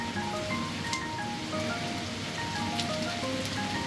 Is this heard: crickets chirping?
no